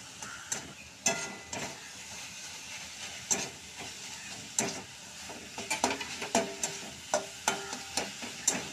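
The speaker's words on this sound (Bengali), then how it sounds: "চালের গুঁড়োটা দিতে হবে আর নাড়তে হবে।" Rice flour being stirred into water in a kadai, heard as faint, irregular scraping strokes that quicken toward the end, with a soft background hiss and no talking.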